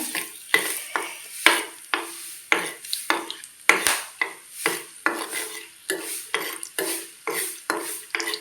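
Cinnamon, cloves and whole spices fry in a pan while being stirred in quick, rhythmic scraping strokes, over a dozen in a row, with a light sizzle between them, close and clear.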